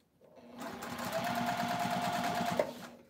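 A newer Singer sewing machine stitches through foam, giving a steady, close motor whir with a rapid needle chatter and a faint tonal hum that runs for about two and a half seconds, then stops.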